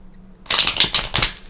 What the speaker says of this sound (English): Can I give it another shuffle?